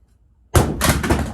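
A PSAK rifle magazine falls from shoulder height and strikes the ground with one sharp, loud impact, followed by a rattling clatter and a second knock as it settles.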